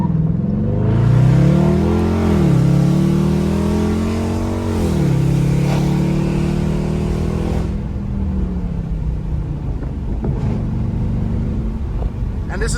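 A car fitted with a new aftermarket exhaust accelerates hard, its engine note rising and falling through gear changes, then settles into a low, steady burble as it slows, loud and close throughout.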